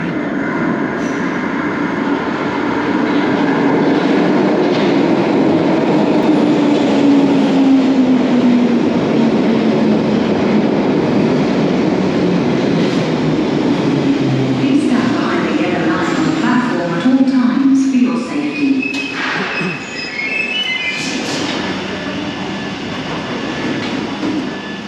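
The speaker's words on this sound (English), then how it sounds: "Now this is the Northern Line train" A London Underground Northern Line train pulls into the station with a loud sustained rumble and a descending whine as it slows. Brakes squeal and clatter near the end, with talk in the background.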